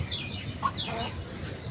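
Hens in a backyard poultry pen cluck softly with a few brief, high chirping calls over a low, steady background hum.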